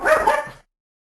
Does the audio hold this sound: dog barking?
yes